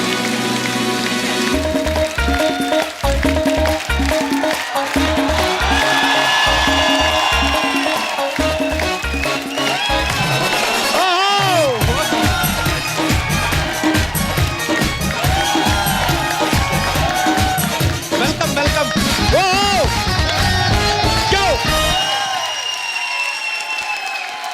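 Studio audience on a Hindi comedy talk show applauds and cheers loudly for arriving celebrity guests, with band music playing throughout and the sound tapering off near the end.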